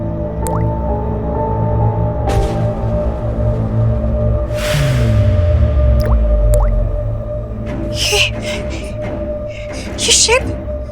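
Water drips in a horror story scene, with distinct wet drops and squishy splashes spread across the scene, close and clear, while voices and gasps are heard alongside.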